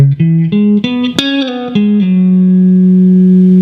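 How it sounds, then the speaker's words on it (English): Electric guitar lick for a song, mixing diatonic scale runs and arpeggios in a quick stepped climb that settles into a long sustained note, loud and alone. "now we're going to do a lick that has a combination of diatonic scales and arpeggios"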